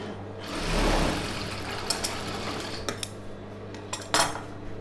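A sewing machine top-stitching a seam on a Patiala pant runs with a steady motor whir, and a few sharp clicks and taps are scattered through it.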